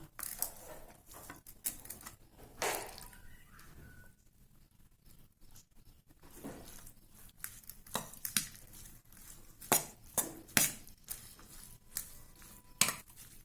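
Cooked tamarind rice being stirred and scraped with a spoon in a vessel, heard as sparse, close clinks and taps scattered over a quiet background, growing busier toward the end.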